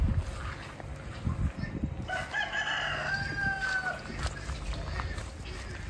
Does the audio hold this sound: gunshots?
no